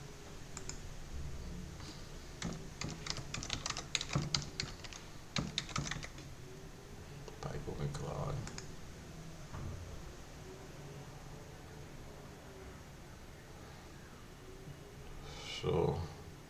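Keystrokes on a computer keyboard while setting up a Windows Server 2022 domain controller, heard as dense, rapid bursts of clicking in the first few seconds, then sparse taps and a quieter stretch in a small indoor room.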